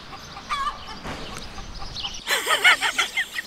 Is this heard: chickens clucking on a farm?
yes